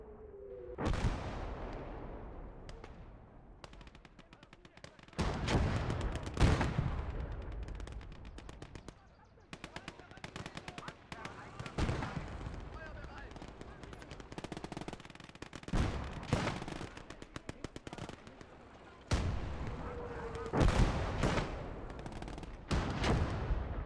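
Battlefield gunfire and artillery in the Gates of Hell war game, with loud booming blasts and rattling machine-gun bursts arriving in irregular clusters over a constant rumbling background. Brief bits of talk are heard faintly among the shots.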